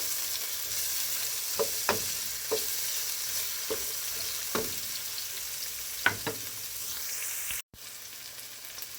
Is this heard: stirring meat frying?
yes